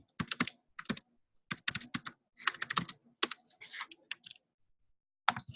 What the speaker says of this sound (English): I can type it in the chat